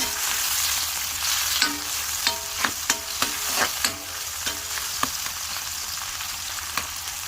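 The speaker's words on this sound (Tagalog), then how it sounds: "So, garlic, onion, and tomato are mixing together." Garlic, onion and tomato frying in oil in a pan while being stirred, a continuous sizzle broken by a string of sharp utensil scrapes and taps at an uneven rhythm, close and fairly loud.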